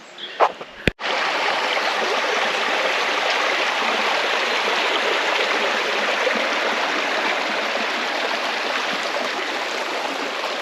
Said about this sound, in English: some flowing water nearby